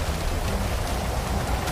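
Steady rain falls in a GTA Malaysia game scene, a dense continuous hiss that fills the whole moment with no voices over it.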